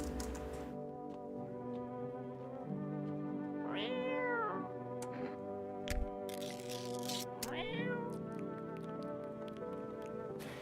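A cat meows in a video game, two distinct rising-and-falling meows about four seconds apart, clear and close over a steady bed of game music.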